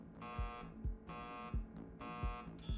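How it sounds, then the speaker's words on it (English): An alarm beeps in the video game Tin Can with harsh, buzzing tones in a steady on-off rhythm, roughly four pulses with low thumps underneath, fairly faint and without speech. "it's already beeping to death at me"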